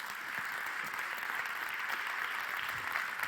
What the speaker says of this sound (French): on vous applaudit bien fort pour vous encourager